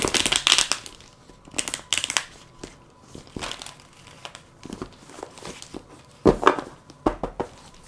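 Tarot cards shuffled by hand for a love reading, close and crisp, in several quick riffling bursts with short pauses between them and no talk over them.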